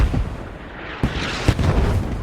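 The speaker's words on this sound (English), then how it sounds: "Mortars dropping all around." Mortar rounds exploding in a military shooter video game, a string of deep booms with sharp onsets about half a second apart, loud and heavy with rumbling low end.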